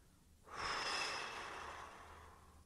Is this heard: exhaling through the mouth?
yes